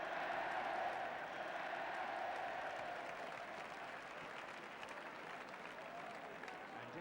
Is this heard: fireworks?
no